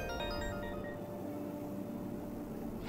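A phone rings in the game Persona 5 Royal, a repeating electronic ringtone tune over a low background hum, steady and fairly quiet.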